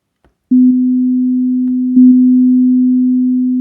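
A single xylophone-app note with the diminish effect on and echo off sounds as a clean, steady tone; it is struck twice, with brief soft taps before each strike, and each note holds and fades slowly.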